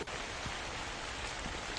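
Heavy rain pours in the video game The Convenience Store, a steady, dense hiss of downpour with no break, alone and fairly soft.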